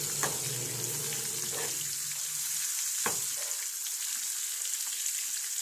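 Steady, bright sizzling of fish frying in hot oil, with a few soft clinks of utensils against the pan.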